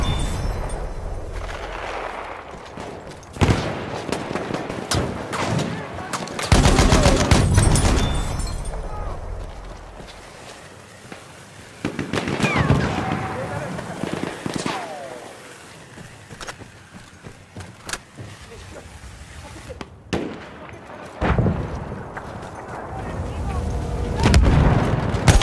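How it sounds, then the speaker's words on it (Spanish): Enemy machine gun fire in Battlefield V, with repeated gunshot bursts and heavy booms coming and going over about 25 seconds, mixed with other battlefield noise and voices talking at times. "¡Ametralladora enemiga!"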